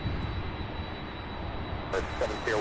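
An MD-11 airliner pushes back and taxis on the ramp at Louisville's SDF airport, its engines a steady, moderately loud whine and rumble, with a brighter hiss joining near the end.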